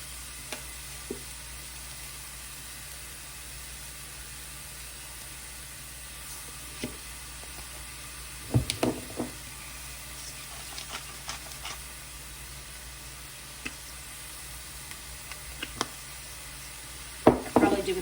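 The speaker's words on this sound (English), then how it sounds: "And toss my zoodles right on in." Zucchini noodles sizzle in a hot oiled pan with a steady frying hiss, broken by occasional clinks and scrapes of tossing and stirring.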